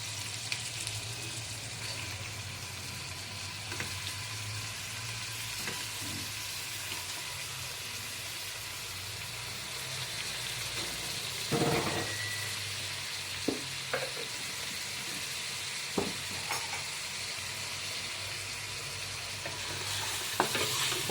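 Meat frying with sautéed onion and garlic in a pan for a Filipino pork dish, a steady close sizzle with occasional stirring clinks and scrapes, no voices.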